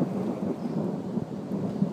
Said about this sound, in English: Here's part of the storm.